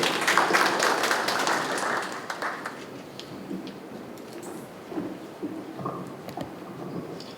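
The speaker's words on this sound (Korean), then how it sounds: "박수로 환영하겠습니다" Audience applause welcoming a guest lecturer at a national seniors' church revival gathering, a dense broad wash of clapping that is loudest at first and then thins and fades after about two seconds into scattered claps.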